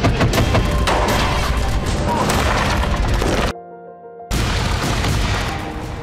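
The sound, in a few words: explosions and gunfire in Belgorod region, Russia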